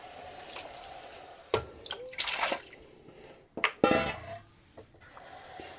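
Water poured into a pot of lentils on a stovetop, with metallic clatter of the pot and utensils; a few short splashing bursts stand out near the end, fairly close and with no talk.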